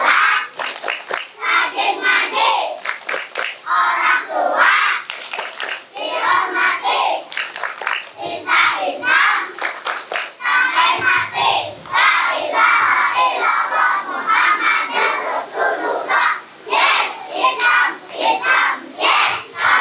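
Children at a Quran-recital graduation event at a village TPQ perform the rhythmic "tepuk anak soleh" clapping chant, sharp group claps and shouted chanting voices in a steady pattern, loud and close, filling the whole stretch.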